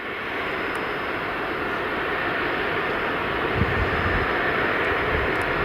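A Boeing 747 jumbo jet takes off at Stansted Airport with a broad, steady, loud engine roar that swells slightly as it lifts away, heard alone without talking.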